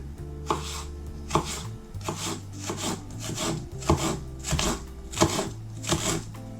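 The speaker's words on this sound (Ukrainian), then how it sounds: "беру дві ось такі невеличкі червоні цибулі і нарізаю ось таким пір'ям" A knife chops red onion into thin slices on a board in steady, repeated strokes, each cut a crisp thud with a brief rasp, over a low background hum.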